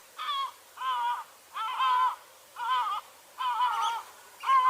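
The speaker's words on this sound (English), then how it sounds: "here's a propaganda piece of a seagull swallowing a rabbit whole" A seagull calling gives six loud, nasal, harmonic squawks in a steady repeating rhythm, close and clear, with no talking.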